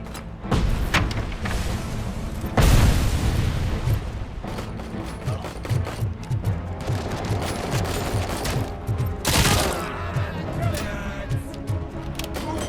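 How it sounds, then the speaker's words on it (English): Gunfire and a grenade blast in the first-person shooter RoboCop: Rogue City on PC, with a heavy boom around the third second, rapid bursts and mechanical clanks throughout, all loud and dense over game music. "Grenade!"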